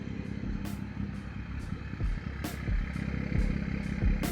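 A BMW fitted with a Valvetronic exhaust idles steadily with a low, rumbling burble, interrupted by a few soft clicks and light thumps.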